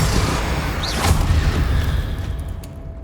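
A Confringo fire spell bursts in the Hogwarts Legacy video game, a loud boom with a whooshing rush that rumbles for a few seconds before fading, with no talking.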